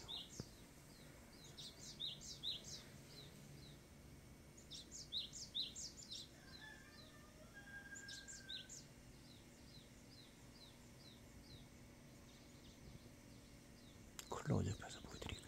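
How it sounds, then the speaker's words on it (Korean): Birds sing and chirp on a wooded hillside behind a house on a spring weekend morning, with acacia in bloom. Repeated thin, high calls come from a little distance, a soft outdoor hush sits beneath them, and a brief rustle comes near the end. "새소리도 들리고"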